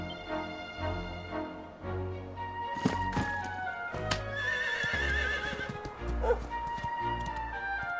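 Horse whinny and clip-clop of hooves from the Dragon Quest XI video game, heard as a short neigh mid-clip over steady game music and ambience.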